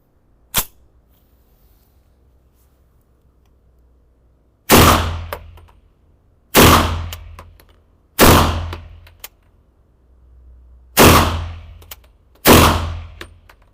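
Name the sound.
five gunshots fired while zeroing a VectorOptics Frenzy red dot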